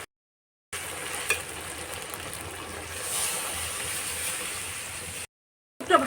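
Snails fry with spices in hot oil, giving a steady close sizzle and crackle with a few stirring clatters, then a brief pause and more clinking.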